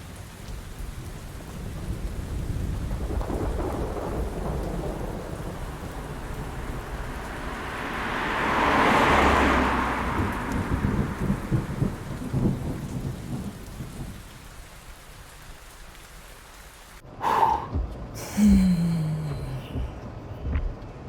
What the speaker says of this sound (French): Il pleut à verse.